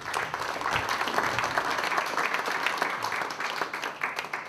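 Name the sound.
audience applause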